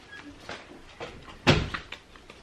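A door is opened at home, heard as a few soft knocks and clicks, with one louder thump near the middle and quieter rattles after it.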